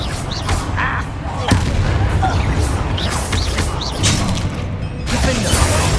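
A Confringo spell blast in the Hogwarts Legacy video game, loud booming explosive bursts amid repeated impacts and battle effects, with a voice calling out over the action.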